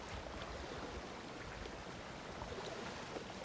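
Small waves lap softly against the Corfu shoreline in an even, unbroken wash, quiet and near, with no talk over it.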